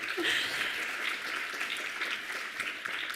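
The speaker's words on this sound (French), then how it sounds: "on peut les applaudir" Ceremony audience at a Coccinelles d'or awards event claps for prize winners, a nursery among them, soft, fairly distant steady applause for a few seconds.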